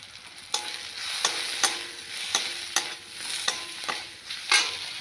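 Mustard paste with chili powder and turmeric is stir-fried in oil for a small bata fish curry. A soft, continuous sizzle runs underneath, with a spatula scraping the pan at a regular rhythm about every half second.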